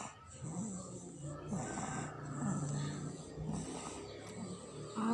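A child snores softly in slow, rhythmic breaths, each inhale a faint rasping rattle, close but quiet against a low room hiss.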